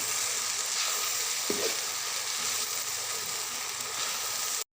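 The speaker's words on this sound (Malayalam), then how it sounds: "ചിക്കൻ മസാലയിലേക്ക് ഇടുകയാണ്. ഇനി നമുക്കൊന്ന് ഇളക്കാം." Chicken masala samosa filling stirred in a pan, a continuous soft sizzle with faint scraping, with one brief clink partway through.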